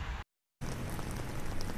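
Heavy rain pours down in a city bracing for lakeshore flooding, a dense, steady hiss of drops striking surfaces that cuts out briefly near the start before resuming just as strong.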